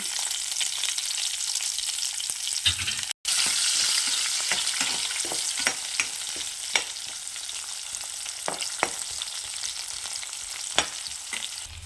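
Mustard seeds, split dried red chilies and chopped onions fry in hot oil, a dense, continuous sizzle up close with frequent stirring scrapes and crackles, briefly cut off once early on.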